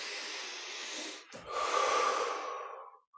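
Deep breathing during a guided yoga meditation with the chest opened: a long, audible inhale through the nose, a brief pause, then a slow, full exhale, close and alone.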